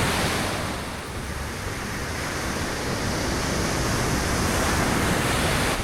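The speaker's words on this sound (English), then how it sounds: "this is nice waves here" Ocean waves wash onto a beach in Albania with big surf, a steady loud broadband roar of breaking water and wind buffeting close by, with no talking.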